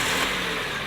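A 12-year-old Kia's engine running right after start-up, a steady close mechanical drone with broadband hiss, loud and constant through the short stretch.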